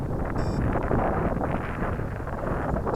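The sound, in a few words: wind blowing at RC gyrocopter flying field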